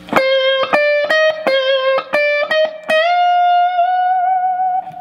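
Electric guitar playing a lick from a solo, a run of quick distorted picked notes that ends in a bent note held and sustained for about two seconds, loud and solo.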